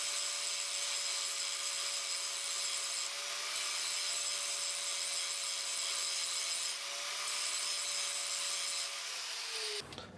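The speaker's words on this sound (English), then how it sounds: "What I'm going to do now is grind down this little lump so that the Warhammer will fit" A power tool grinds steadily on a metal lump on a homemade medieval warhammer head, a continuous loud whine with a sustained tone that holds for about ten seconds before cutting off abruptly near the end.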